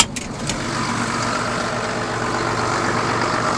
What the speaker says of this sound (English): got the tractor started, we're just raising the drill